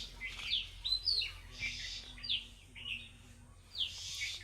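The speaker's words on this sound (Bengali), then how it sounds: "আপনারা দেখতে পাচ্ছেন লিচু গাছে ছোট্ট একটি পাখি বসে আছে" A small bird perched in a litchi tree in a village gives bright, high chirps in short repeated bursts, moderately close, with no talking.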